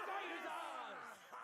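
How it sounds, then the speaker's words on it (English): Troops cheering in a video game battle, a brief swell of many voices shouting and whooping together, moderately loud and continuous before fading slightly at the end. "Stop cheering."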